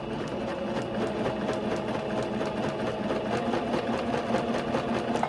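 A sewing machine stitches ribbon onto a tulle tutu at an unhurried pace, its needle mechanism running in a steady, fast, even rhythm close by for the whole stretch.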